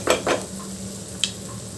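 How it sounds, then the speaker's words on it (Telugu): Semiya (vermicelli) frying in a pan for upma, with a couple of stirring scrapes and a light clink against the pan, near and fairly quiet, no talk. "ఇలా ఫ్రై చేసుకుందాము బాగా"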